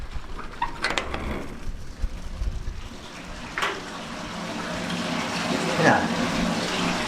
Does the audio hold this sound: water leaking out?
yes